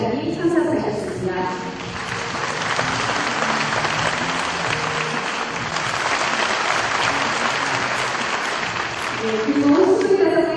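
Loud, sustained applause fills a large hall at a regional advisory council meeting in Seoul, a steady wash of clapping that swells again at the end, with a speaker's amplified voice heard briefly at the start and close.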